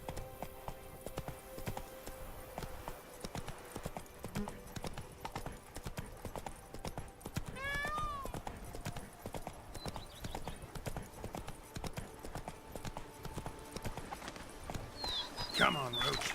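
Geralt's horse Roach from The Witcher 3 trots steadily, hooves clip-clopping in an even rhythm throughout, with a brief whinny-like chirp midway and game ambience and voices around it.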